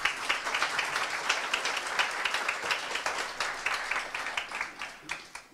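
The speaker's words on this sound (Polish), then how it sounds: "Brawa, proszę Państwa." Sustained audience applause fills a jazz concert hall, dense steady clapping from a crowd that slowly thins toward the end, with no talk over it.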